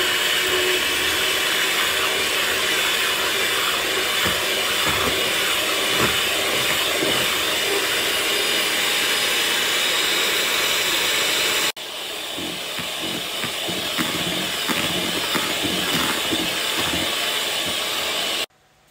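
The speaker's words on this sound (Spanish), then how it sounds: "Vamos a batir las claras." An electric hand mixer beats egg whites for Salvadoran quesadilla batter, a loud continuous whirring hiss that cuts briefly at one point, restarts with a slightly different tone, then stops abruptly at the end.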